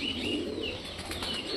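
A pigeon takes off close by, its wings flapping in a quick, fluttering burst that lasts the whole moment, with faint chirps in the background.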